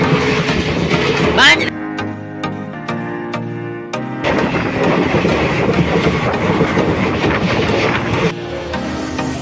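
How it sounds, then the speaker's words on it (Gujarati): A passenger train pulls past at a railway crossing, heard from a second train that has stopped to let it through: a loud, continuous rumble with rhythmic clickety-clack of wheels and a steady tonal hum, close and sustained. "સામેથી જોઈ શકો છો તમે ટ્રેન આવે છે જો"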